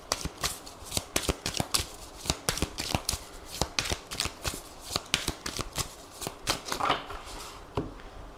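Tarot and oracle cards are shuffled and cut by hand in a quiet room, giving a steady run of crisp, close riffling and snapping bursts in quick rhythm with no talking.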